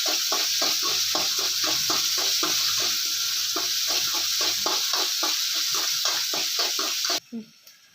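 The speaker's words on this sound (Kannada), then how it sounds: "ಒಗ್ಗರಣೆ" Oggarane tempering of curry leaves and onion sizzles in a pan for chutney, a constant bright hiss under a rhythmic run of stirring scrapes that ends abruptly near the close.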